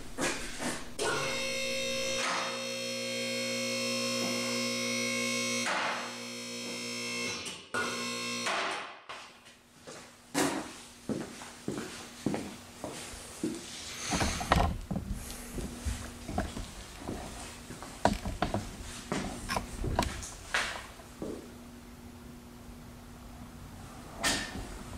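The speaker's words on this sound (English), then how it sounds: "let's get the Golf R up on the lift and test it out" A two-post car lift, an ATLAS BP8000 baseplate model, raises a Golf R in a garage: a steady motor whine hums for several seconds, then stops, followed by a series of sharp mechanical clunks and clicks.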